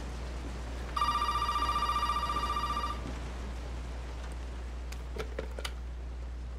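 A telephone rings in Resident Evil 7: Biohazard, one steady trilling burst of about two seconds that stops abruptly, followed by a few faint clicks and taps over low background hum.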